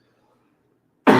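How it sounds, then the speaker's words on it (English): A single loud, close cough bursts out after a second of near silence and rings on to the end. "Excuse me again for my cough."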